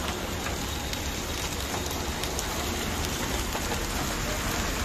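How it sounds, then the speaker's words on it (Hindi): Heavy hail pelting down outdoors in Faridabad, India, makes a dense, continuous, loud clatter of countless impacts with occasional sharper hits. It sounds close and unbroken, with no voices. "ओले ही ओले पड़न ला रहे हैं जबरदस्त"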